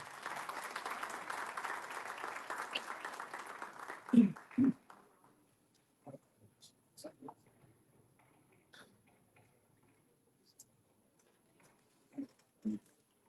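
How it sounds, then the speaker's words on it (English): Audience applause welcoming the president onto a human rights panel discussion, a sustained broadband patter of clapping for about four seconds that stops abruptly, followed by sparse knocks and handling noises in a quiet room. "So in a round of applause, I want to welcome our president, Mr. Nadeem Smart."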